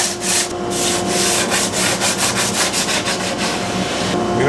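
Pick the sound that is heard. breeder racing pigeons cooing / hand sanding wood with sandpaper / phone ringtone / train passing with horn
hand sanding wood with sandpaper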